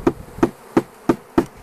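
Package bees inside a shipping box being tapped and shaken during hive installation: five sharp, evenly spaced knocks, each setting off a short burst of buzzing, close and fairly loud with no voices.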